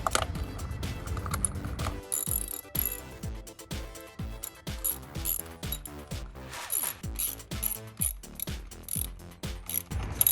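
A ratchet wrench tightening the bolts on MSD Blaster Series ignition coils in a 2012-2016 Jeep Wrangler JK: rapid close-up clicking in repeated bursts with short pauses between strokes, quiet and crisp, without speech.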